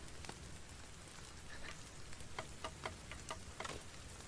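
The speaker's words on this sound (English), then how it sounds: "Oh, it's going to rain. It's raining." Steady rain falls in a forest survival video game, a soft even hiss with scattered light drop ticks, fairly quiet and heard alone.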